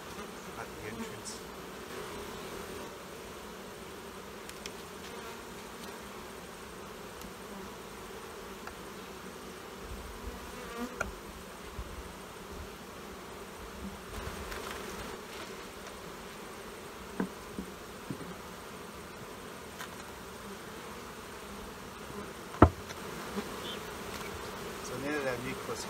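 Honey bees buzz steadily around a nucleus hive during autumn robbing. The drone is continuous and moderately faint, with a few louder passes close by and no talking.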